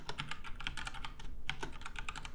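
Close, moderately loud typing on a computer keyboard while entering data into an Oracle SQL session, with a quick run of clicky keystrokes and a few sharper taps, without any talk.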